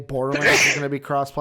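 A single sharp sneeze bursts out amid a voice talking about video games during a live gaming discussion, the sneeze loud and close between spoken words.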